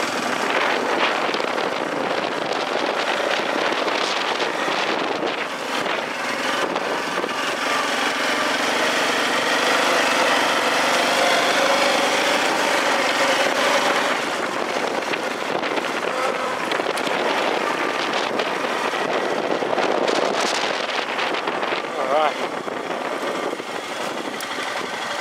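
A 2004 Honda Foreman Rubicon 500 4x4 ATV engine running steadily for a long stretch, a broad droning hum with shifting pitch and some wind rumble, fairly close and without pauses.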